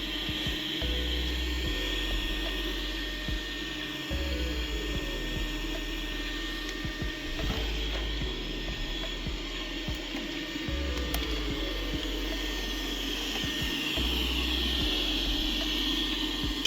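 A Dreame L40S Pro Ultra robot vacuum cleaner runs in vacuum mode beside a cat, producing a steady whirring suction drone with faint bumps and clicks, close and continuous.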